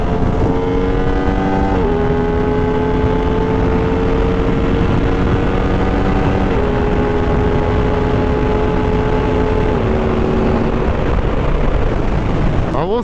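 Aprilia RS660 Factory motorcycle engine pulling hard at high RPM while riding, a loud steady drone with rising pitch sweeps stepping up through gear changes, wind roar constant underneath.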